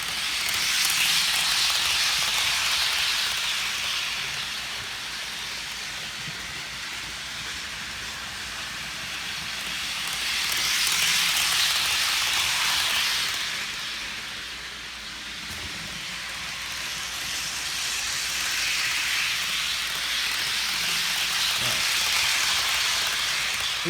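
A Piko HO scale ICE high-speed model train runs on Bachmann track, giving a steady hissing, whirring roll that swells and fades in three waves as it passes near and moves away, with no talk.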